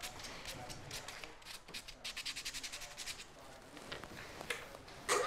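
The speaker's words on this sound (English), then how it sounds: "We're just going to rough this with 150 grit." Sandpaper of 150 grit roughs a wood blank glued to scrap, giving soft rhythmic rubbing strokes, quiet and close, with a voice talking faintly over it.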